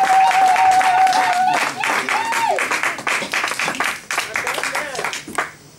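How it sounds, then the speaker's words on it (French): Church congregation applauding and cheering loudly for an arriving pastor, dense clapping with shouts and a sustained cry at the start, gradually thinning toward the end. "Lorsqu'il avance, nous acclamons très fort pour la gloire de Dieu."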